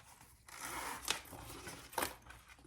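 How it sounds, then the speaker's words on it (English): A zipper on a handmade fabric pouch is pulled open in two quick, rasping strokes, close and quiet, over a soft rustle of fabric being handled. "then I'm going to open my zipper"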